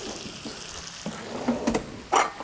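Beef tenderloin sizzling in butter in a pan, a steady soft frying hiss with a few sharper crackles and spatters near the end, close and moderately loud, with no voice.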